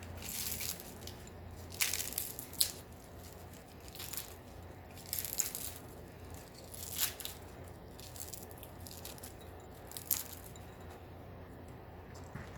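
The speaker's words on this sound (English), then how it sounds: "What I do is I break it up, and this is true cinnamon" True cinnamon sticks, the softer kind, snapped and crumbled by hand in a kitchen while making spicy chickpea soup: a few quiet, dry cracks and crunches at irregular intervals over a low room hum.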